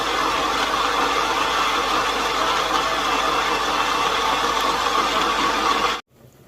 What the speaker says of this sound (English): I have my onions, crayfish and pepper. I'm going to be blending it now.